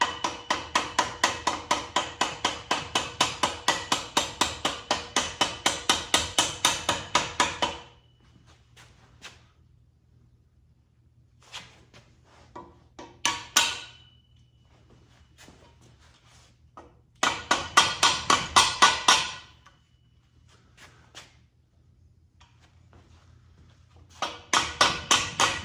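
Rapid, even tapping bursts from a plastic hammer on a Chevy van steering column being fitted into a C10 truck, close up, in several runs separated by quiet pauses and small knocks.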